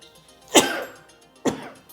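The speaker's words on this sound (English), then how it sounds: "I'm going to sneeze here in a second." Two abrupt bursts, a sharp explosive one followed about a second later by a smaller one, like a person sneezing nearby and then a short follow-up, in a quiet room.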